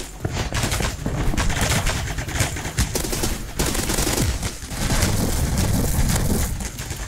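Rapid gunfire from the FPS game Energy Assault, dense overlapping shots in steady bursts with explosive cracks, loud and continuous throughout with no talking.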